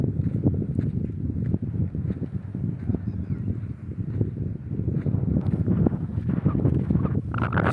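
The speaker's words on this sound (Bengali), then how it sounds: "হাওয়াটা উঠেছে" Wind gusting outdoors beside a riverbank under cloudy skies, a steady broadband rumble buffeting the microphone for the whole stretch without any talk.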